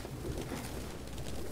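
A flock of pigeons coos continuously in the game Detroit: Become Human, a dense, close, murmuring layer of low, throaty calls filling the space, with no voices over it.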